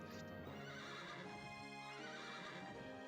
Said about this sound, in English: These are the only horses in the game, I'm pretty sure.